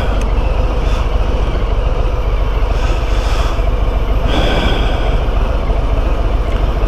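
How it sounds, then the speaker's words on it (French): A tram arriving at a stop in Tours, France, makes a steady broadband rumble and hiss that stays constant for about seven seconds, heard outdoors amid wind-like noise, with no voices. "Il y a le tram qui arrive"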